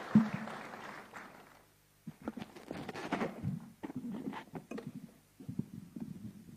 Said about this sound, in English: Let us welcome him kindly with a hearty hand clap.